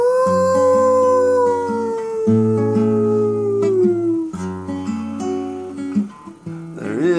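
Several people imitate a coyote howl during a folk song, holding long, wavering howls in harmony that slide downward and overlap, loud and close, ending in short yips and breaks.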